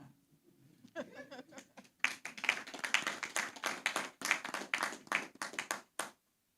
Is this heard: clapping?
yes